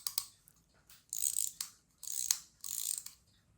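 A wind-up Halloween skull toy is wound by hand: several bursts of dry ratcheting clicks, each lasting about half a second, separated by short pauses, close and fairly quiet.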